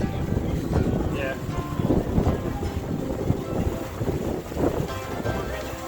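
A sailboat under way on a chilly day in the Cyclades, Greece, with steady wind rushing and buffeting past the microphone, water wash beneath, and indistinct voices faintly mixed in throughout.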